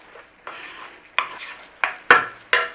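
Sausage meat being stirred through a pepper casserole in a pan, giving a series of short scraping, sloshing strokes, about five distinct pushes with brief pauses, close and fairly clear with no talk.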